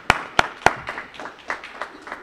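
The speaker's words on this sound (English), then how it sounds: "with a round of applause" A handful of sharp, close claps ring out at a library event, three strong ones followed by a few lighter, scattered claps that fade out.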